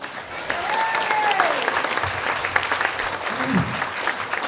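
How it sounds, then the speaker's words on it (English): A crowd at a climate march in Franklin breaks into steady, dense applause outdoors, with a couple of brief whistles or tonal calls rising above the clapping. "So everybody give Brent a round of applause"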